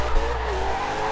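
A car drifts in a racing video game, its tires squealing in a sustained, slightly falling screech over engine drone, loud and continuous with no speech.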